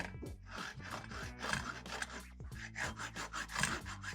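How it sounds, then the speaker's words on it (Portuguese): Metal can being cut all the way around its base for a recycled plant pot, a steady rasping, scraping run of strokes that carries close and alone, with short pauses between bursts. "vocês vão fazer um corte em toda a volta da lata"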